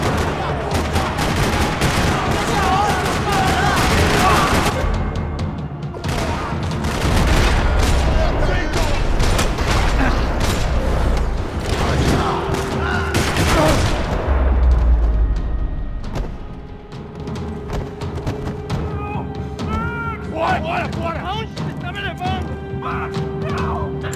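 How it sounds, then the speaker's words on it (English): Rapid bursts of gunfire and explosive crashes in the video game Max Payne 3 dominate for about fifteen seconds, then fade into quieter background sounds with occasional voices. "Another parking lot rattling with gunfire."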